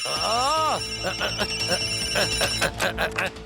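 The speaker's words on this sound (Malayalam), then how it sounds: "ഇതെന്താ ഒരേ സമയത്ത് ഇത്രയും ഫോൺ കോള്?" Several electronic phone ringtones chime and trill over each other in quick repeating bursts, with a voice speaking briefly at the start.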